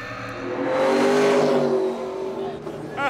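A V8 Thundercars race car roars past at speed on a circuit, its engine note swelling then fading away over about three seconds, loud and close.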